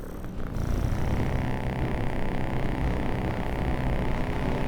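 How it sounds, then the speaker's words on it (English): A cat purrs in a steady, continuous low rumble, close and even throughout, with no voices. "Yes, we are listening to a cat purr."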